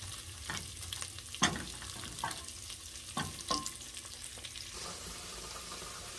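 Tomato paste sizzles in a pan for a meatball sauce while a utensil stirs it in several scraping strokes over a soft, continuous frying hiss, with no voices.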